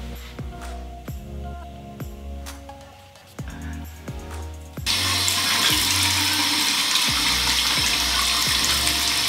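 Tap water runs into a sink while makeup is rinsed off a face, a soft trickle with small knocks and splashes, then the flow opens up into a loud, steady rush for the second half.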